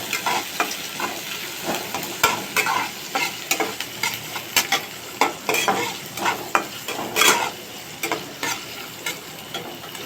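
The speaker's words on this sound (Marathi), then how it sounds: "कांदा थोडा परतून घेऊ." Onion and green chillies stir-fry in a hot pan for restaurant-style soya chilli, a constant sizzle broken by repeated scraping and clinking of a spoon against the pan.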